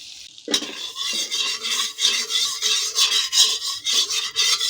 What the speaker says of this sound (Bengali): উল্টে এইভাবে আমরা ভেজে নেব।